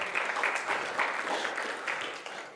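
A church congregation applauds in a steady, moderate round of hand clapping, a fairly close crowd sound heard alone without speech.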